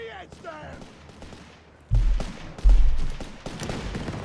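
Rifle and gunfire from infantry combat in the strategy game Company of Heroes 3, anti-tank rifle shots against Bersaglieri troops, coming as two loud bursts with scattered shots around them over a battle background.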